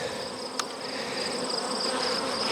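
Honey bees buzz around a beekeeper checking mating nucs, a dense close droning hum with a brief sharp tick early on and no talk.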